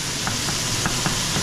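Frozen meat sears and sizzles in a hot pan, a steady crackling fry with a few brief stirring scrapes, close and without talk.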